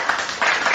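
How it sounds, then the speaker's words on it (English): Applause from an audience, a broad wash of clapping that swells in two bursts over a brief moment. "let's give a round of applause for our speaker, Ms. Alpha."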